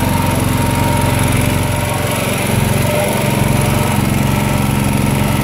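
Small portable generator engine running on gas, a steady, close, buzzing drone with an even pulsing hum that holds constant throughout.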